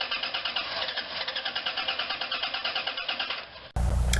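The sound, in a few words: 1996-2002 Caravan engine running to relieve fuel pressure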